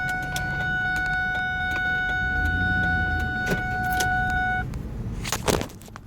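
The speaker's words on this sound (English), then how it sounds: "That's a reminder that my seat belt needs to be put on." A steady electronic seat belt reminder chime sounds inside a car over a low engine hum, holding for several seconds before stopping, followed by clicks and rustling.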